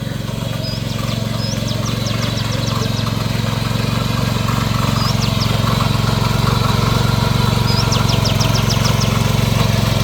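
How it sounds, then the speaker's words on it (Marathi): A tractor puddling a muddy, rain-soaked paddy field in Konkan hums as a steady, fairly loud low engine drone throughout, while birds chirp in short bursts over it. "इथे आता चिखल चालू आहे ट्रॅक्टरच्या पद्धतीने"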